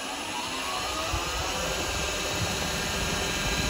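A woodturning lathe spins up while turning a Christmas bauble, giving a loud, steady whirring roar with a high whine on top, continuous and close throughout.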